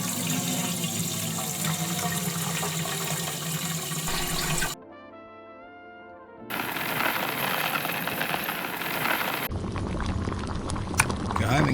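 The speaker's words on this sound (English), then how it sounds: "we need to pour in the water" Water pours and splashes into a brewing vessel in Beer Manufacture Simulator, a steady rushing stream broken by a short pause and then resuming, with speech mixed in.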